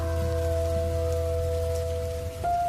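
Steady rain pours down on a dark night beside a roadside shop, a continuous hiss that runs the whole time beneath a sustained low, tonal drone, with no voices.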